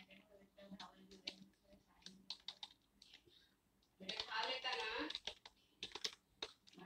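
Computer keyboard typing a Hello World program, with irregular bursts of close, light key clicks and a denser loud flurry midway, plus a few isolated taps near the end.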